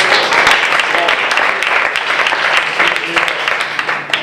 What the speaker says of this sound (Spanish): Y se merece un aplauso.